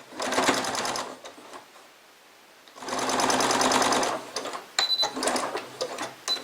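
A sewing machine backstitches a half-inch seam on a fabric wine bottle cover, whirring loudly in two long runs separated by a pause, then a few short, choppy stitch bursts close by.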